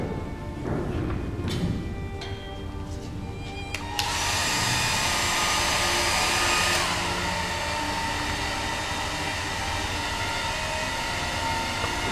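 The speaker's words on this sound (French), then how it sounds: "Une fois qu'on a déposé toutes les tâches, on sèche à l'aide du sèche-cheveux." A hair dryer roars on after some handling noise and blows steadily on a thin-layer chromatography plate, with a loud, constant whoosh and hum, its pitch dropping slightly partway through.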